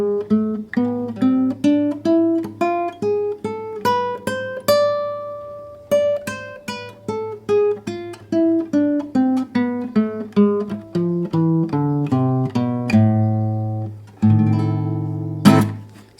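A solo guitar picks single notes in a steady stepwise run up and down a harmonic minor scale, as used in flamenco, clear and close, ending on a strummed chord.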